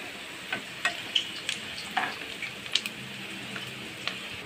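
Prawn pakoda frying in oil in a pan, a steady sizzle with intermittent scraping and clacking as the pieces are stirred and turned, close and moderately quiet.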